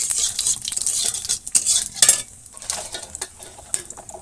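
Pointed gourd fries in hot oil with cumin seeds, a close, bright sizzle broken by repeated scraping strokes of a spatula stirring the pan; no voices.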